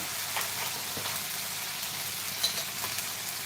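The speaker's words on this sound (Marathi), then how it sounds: "आणि मसाला चांगला असा परतून घ्या" Spiced masala for a boiled-egg curry sautéing in a pan over a low gas flame, giving a faint, steady frying hiss with a few soft stirring clicks throughout, no voices.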